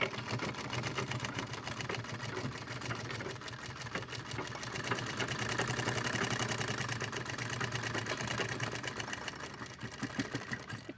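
A sewing machine stitching a piece of a drawstring wrist bag, a continuous fast rapid-fire motor whir running steadily and loud for the whole stretch with slight swells.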